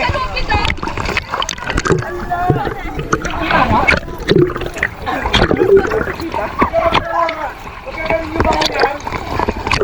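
Water splashes and crashes against a small boat in strong waves off Sariaya, Quezon, with people talking and calling out in Filipino over the churning noise.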